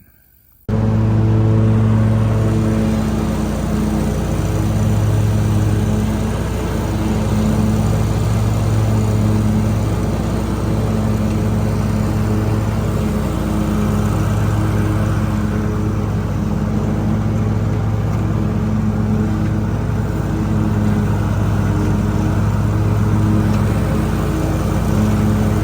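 A lawn mower with sharpened gator blades cuts thick grass, its engine droning steadily and loudly with a constant low hum from start to finish, no voices.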